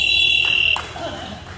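A basketball game buzzer sounds loud and steady for under a second, a single sustained electronic tone that cuts off abruptly, followed by a voice talking over the court.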